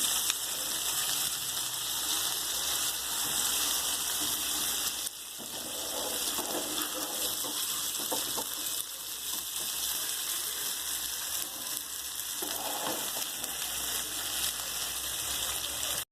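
Fish coated in thick masala spice paste fries in a pan with a steady, dense sizzle that runs throughout, punctuated by occasional crackles and brief dips, with no talking.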